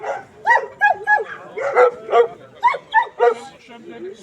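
A German Shorthaired Pointer male barks in a run of about ten sharp, close, fairly loud barks and yips, with brief gaps between them and low background murmur at a dog show judging.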